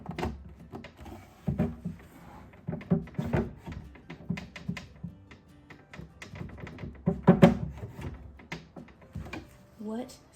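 A stuck nightstand drawer being yanked and wrestled with, giving repeated close thunks, knocks and rattles in irregular bursts, with a voice talking between the pulls.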